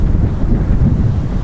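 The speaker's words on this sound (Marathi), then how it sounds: "बापरे काय वारा आहे." Strong wind gusts roar across the microphone on Achara Beach, a loud, continuous buffeting rush with a low rumble of surf underneath and no talking.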